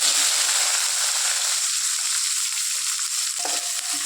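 Garlic, onion and green chillies frying in hot oil after mustard seeds have popped, for a sukkutti keerai soup: a loud, steady close sizzle throughout, with a faint clink near the end and no talk.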